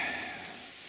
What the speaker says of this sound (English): we got a little rain coming in